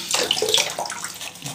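Water runs from a tap during a wet shave with a DE safety razor, a steady hissing splash with brief fluctuations, close by and fairly loud, no talk.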